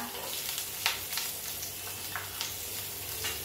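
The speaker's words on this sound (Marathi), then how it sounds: "हा कांदा लालसर होऊन द्यायचा आहे छान अगदी। तेल अगदी थोडे टाकायचे आहे।" Chopped onion fries in just a little oil, a continuous close sizzle broken by several short scraping stirs of a spatula against the pan.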